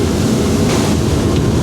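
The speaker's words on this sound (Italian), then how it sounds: "Ma acceleriamo ancora perché questi motori hanno davvero tanto da esprimere ancora." Scanner Envy 1100 motorboat running fast across open water, a loud, steady roar of engines mixed with rushing wash and wind buffeting, with no talk.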